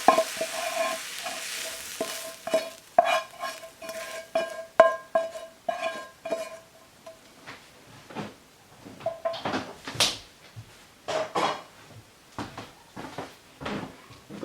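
Spoon stirs a mixture through mashed potatoes in a bowl, producing repeated soft scraping and thick squelching strokes at close range, with a few clinks, and no talking.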